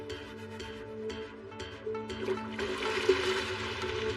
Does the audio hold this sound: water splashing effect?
yes